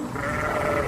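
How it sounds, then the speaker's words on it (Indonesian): Sheep bleats in a short, steady, nasal burst, close and moderately loud, with no talking over it. "Ini domba."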